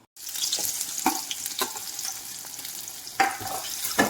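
Sliced onions fry in a little coconut oil in a pan, giving a steady close sizzle broken by several sharp spatula scrapes and knocks; no one speaks.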